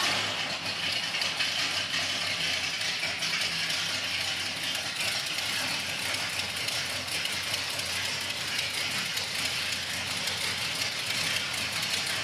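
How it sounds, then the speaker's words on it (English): Fuel pump running on a 1962 Mercury car, a continuous dense buzzing rattle held steady and fairly close for about twelve seconds without pause. "I hear the fuel pump running."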